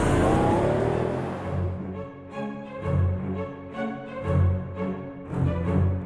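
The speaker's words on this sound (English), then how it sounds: "Its powerful engine has great responsiveness and a mighty roar" A Pagani Zonda's naturally aspirated engine roars in repeated surging revs, a deep rumble rising and falling in roughly once-per-second pulses after an initial loud burst that fades.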